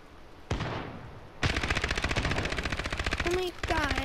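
Loud close bursts of rapid automatic fire from an unsuppressed machine gun with an 80-round drum magazine in a video game, two long sustained strings with a brief pause between them.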